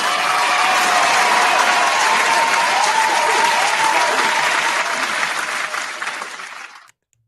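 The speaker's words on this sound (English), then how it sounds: "Round of applause for that, Mackey" A round of applause from a crowd on a music mixshow, heavy and continuous clapping at full strength for about six seconds, then fading quickly and stopping.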